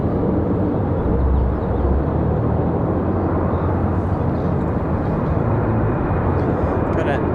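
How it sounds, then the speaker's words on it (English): A Delta airliner arriving at Raleigh-Durham airport gives a steady distant jet rumble that runs the whole time beneath ongoing talk. "Got a Delta arrival in the background there"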